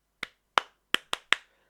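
Five sharp hand claps land close on a microphone, imitating Pentagon's mic clapping to start a crowd chant at AEW Fight for the Fallen, irregularly spaced with quick decays and silence between.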